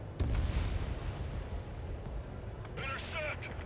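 Anti-air fire and missile explosions rumble through an Ace Combat 7 battle, with heavy low booms early on and sustained roaring blasts, joined later by a rising whistling streak, all under a talking voice.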